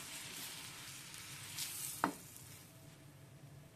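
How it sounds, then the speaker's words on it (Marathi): Bread slices toasting in butter on a hot tawa give a soft, steady sizzle, with a brief scrape or clatter midway and a sharp click at the end. "मी तवा गरम केलाय, ह्याच्यामध्ये बटर टाकून घ्यायचं आणि छान आपले ब्रेड भाजून घ्यायचे दोन्ही साईडने."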